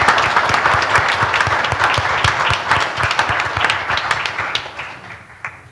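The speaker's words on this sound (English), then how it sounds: "Let's give a round of applause." Steady, full round of applause from a church congregation during a Sunday morning worship service, loud and sustained before gradually thinning out toward the end.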